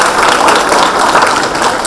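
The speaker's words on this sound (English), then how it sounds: "Big round of applause for him." An audience at a college science forum breaks into a loud, sustained round of applause, dense clapping held at an even level throughout, heard close and without talk.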